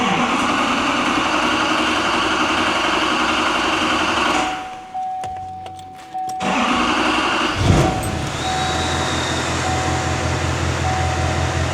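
A 2016 GMC Sierra Duramax diesel engine runs with a steady loud drone, dips to near quiet around the middle, then catches and settles back into a close, even idle with no talking.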